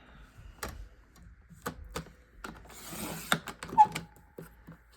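Scrapbook paper, a strip of green cardstock, is trimmed half an inch narrower by hand. A run of close, sharp clicks and slicing strokes comes at an irregular pace, with one longer scraping cut in the middle, in a quiet room.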